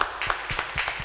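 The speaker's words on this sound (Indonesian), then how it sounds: "Tepuk tangan untuk panjenengan semuanya" A church congregation claps together during a harvest festival service, a brief burst of scattered hand claps repeating steadily at moderate distance with no speech over it.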